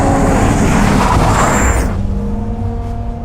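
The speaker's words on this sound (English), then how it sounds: "I will perform an acceleration from standstill, wide open throttle." A Bugatti Rimac hypercar with 1,800 horsepower launches from standstill at wide open throttle in Arjeplog, Sweden, its loud engine roar building and rising steadily, then fading into a lower, sustained drone.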